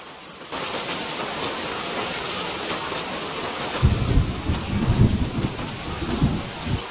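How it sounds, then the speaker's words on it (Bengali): Steady, heavy rain pours down continuously, with deep rumbles of thunder rolling in during the second half. "এই বৃষ্টি তো কয়েকদিন থেকে থামছেই না"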